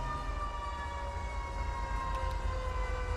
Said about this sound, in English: here comes the ambulance coming through.